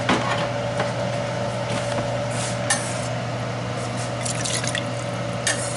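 Beef stock for a beef stew is poured into a cup, making a steady liquid trickle with light drips over a constant low kitchen hum.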